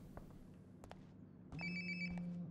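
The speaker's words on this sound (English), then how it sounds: "Sounds like my phone is definitely nearby." A phone rings in the game Life is Strange: Before the Storm Remastered: a bright electronic ringtone starts partway through, fairly faint and muffled as if from another room, after a few soft footsteps and bumps.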